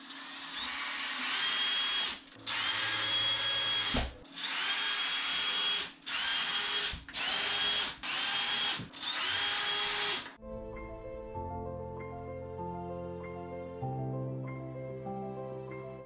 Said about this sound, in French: Il n'y a plus qu'à visser.